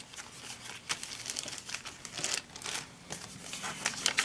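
A paper envelope crinkles and rustles close by as it is opened and handled while setting up a planner, in a steady stream of crackling and crumpling with no talk.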